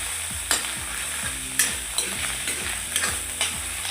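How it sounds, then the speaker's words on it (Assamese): Fish roe sizzles in a hot pan while a spatula stirs it, sending a scraping clatter every half second or so over a constant frying hiss. "এতিয়া মাছৰ কণীখিনি ভাজি লোৱা হৈছে"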